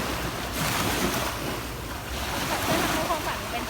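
Sea waves wash continuously onto the shore of the Chonburi and Rayong coast in Thailand, a broad steady roar mixed with wind buffeting the microphone.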